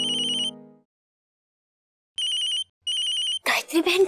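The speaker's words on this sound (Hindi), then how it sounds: "फोन" A telephone rings with bright electronic tones in repeated bursts and short pauses, clear and close, then a voice starts speaking.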